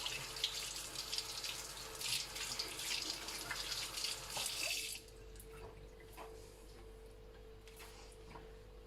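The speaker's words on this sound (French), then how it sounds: "De l'eau bien chaude." Hot water gushes from a tap into a sink for about five seconds, a close steady hiss that then stops, leaving quiet drips and faint handling noises.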